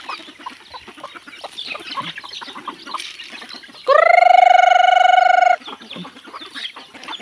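Chickens on a farm near a coop, with scattered soft clucks and background bustle, then a loud, close, sustained harmonic call, likely a rooster crowing, lasting nearly two seconds before the low clucking returns.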